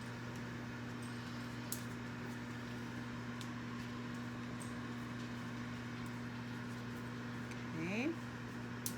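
A microwave oven runs with a steady low electrical hum while a bag of microwave popcorn begins to puff up, a faint rising crinkle and rustle appearing near the end.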